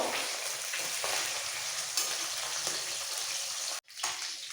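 Marinated katla fish fries in hot mustard oil in a kadai, a dense, close sizzle that drops out abruptly for a moment before the crackling resumes.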